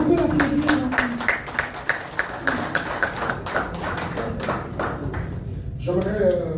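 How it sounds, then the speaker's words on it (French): An audience claps in a hall, a run of scattered, uneven hand claps lasting several seconds, with a voice speaking briefly at the end. "Est-ce qu'on peut l'applaudir?"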